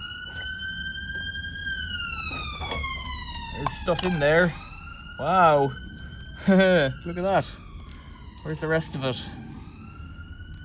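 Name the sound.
police siren in the distance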